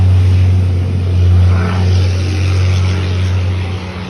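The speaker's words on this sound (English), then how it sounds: "That's a loud truck." A loud truck passing along the road beside a front yard, a heavy low engine drone that stays strong throughout and eases slightly at the end, with no talking.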